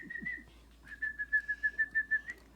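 A person whistles to imitate a little bird: one short trill, a pause, then a run of about ten quick, evenly spaced chirping notes at a steady pitch, close and clear, with no talking.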